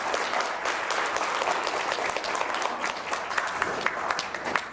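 A summit audience breaks into steady, dense applause, many hands clapping together at a sustained even level without talk.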